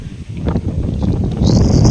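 Strong wind sweeps across a hanging bridge, buffeting the microphone with a loud, continuous roar that rises and gusts, and a thin whistling tone appears near the end.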